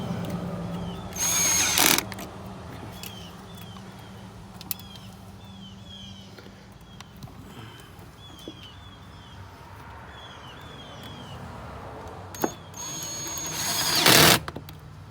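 Ratchet tightening the remaining nuts on a 2013 Ford F-150 during a cold air intake install, heard as two loud bursts of rapid clicking near the start and end, with sparse small clicks and faint background between them.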